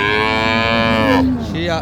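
A Friesian cow at the Ambari cattle market in Dinajpur gives one loud, close, drawn-out moo that drops in pitch near the end.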